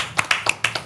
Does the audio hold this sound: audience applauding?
yes